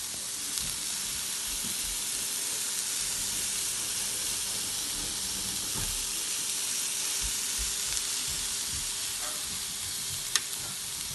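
Rice for stuffed peppers sizzles steadily in a hot pan. A constant, even hiss runs throughout, with a few faint knocks and one sharp click near the end, and nobody speaks.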